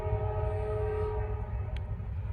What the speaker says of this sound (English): this is going to be a good train meet